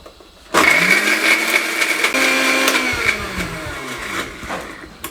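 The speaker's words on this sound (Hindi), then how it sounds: "इसको हम फाइन ग्राइंड कर लेंगे" A blender fine-grinds soaked almonds and pistachios into a paste, starting abruptly and holding a loud, steady whirring motor hum with a shifting pitch for several seconds, alone.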